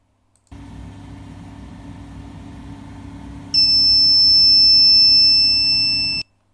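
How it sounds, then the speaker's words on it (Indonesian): A low electrical hum runs steadily, then a drink reminder water bottle's shrill electronic buzzer tone sounds continuously for about three seconds before everything cuts off. "buzzer berbunyi tit tit, nah itu tandanya kita disuruh untuk minum"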